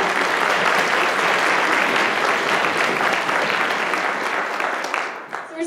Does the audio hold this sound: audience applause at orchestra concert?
yes